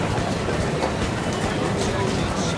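Train noise inside a busy Tokyo metro station: a steady, loud wash of rumble and rolling rail clatter that fills the whole short stretch without pause.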